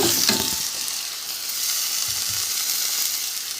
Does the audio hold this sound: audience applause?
no